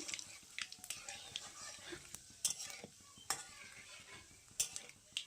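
Bay leaves, dried chillies and whole cumin fry in hot oil for a chicken dish, giving a faint, soft sizzle broken by scattered light scrapes and clinks of a spoon stirring in the pan.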